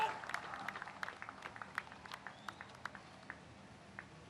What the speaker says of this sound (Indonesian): Kita berikan tepuk tangan yang meriah, hadirin sekalian